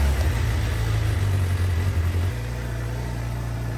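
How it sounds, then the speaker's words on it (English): A car engine runs during a battery start-load test, giving a steady low mechanical hum that drops to a slightly lower, settled idle about two seconds in. No one speaks. "Start engine, all right."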